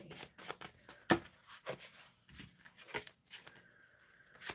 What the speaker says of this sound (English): Shuffling for Anne Morale